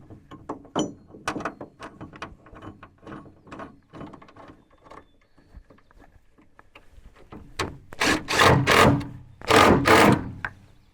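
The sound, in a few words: driving T40 bolts into truck mounting plate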